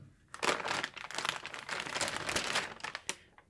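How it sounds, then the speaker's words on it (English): A label peels off a TackLife mini hot air heat gun, a close, quiet crinkling and tearing rustle that lasts about three seconds, with no voices. "Now watch how easy this label is just going to peel right off."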